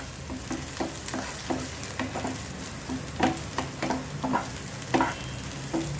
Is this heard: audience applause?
no